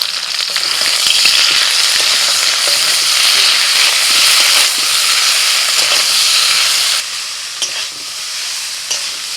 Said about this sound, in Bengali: ডাঁটা আলুর সঙ্গে মশলাটা ভালো করে কষিয়ে নিয়েছি